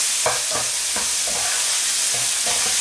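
Ingredients for a Thai pan-cooked egg dish with onion and a pinch of pepper being stir-fried, spatula scrapes repeating every half second or so over a steady, close sizzle, no voices.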